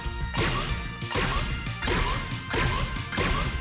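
Repeated smashing impact hits land in a fast rhythm as party members hop onto three enemies in the Sea of Stars video game, with swishing whooshes between the strikes over steady background music.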